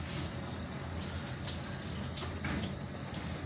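Water from a hose or shower rinsing a dog during a bath: a steady, even hiss and splatter runs throughout, fairly close, with no talk.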